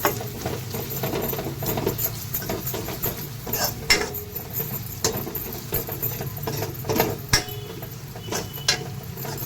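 A spoon scrapes and clinks against a pan as chilli masala is stirred into green moong dal amti, giving a steady run of close metallic taps and scrapes throughout.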